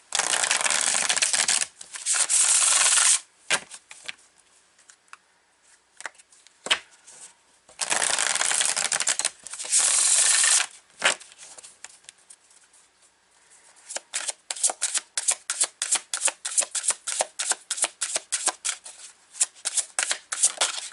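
A tarot card deck being shuffled, with several long riffling bursts followed by a rapid run of crisp, rhythmic card slaps, close and loud with no talking.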